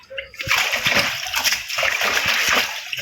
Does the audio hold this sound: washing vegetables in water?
yes